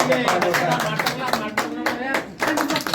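Short burst of clapping at a gram panchayat felicitation ceremony for departing members, with scattered hands sounding close and busy over roughly three seconds, mixed with voices.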